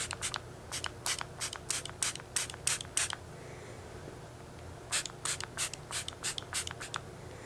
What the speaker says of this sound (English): I'm gonna spray that on my hands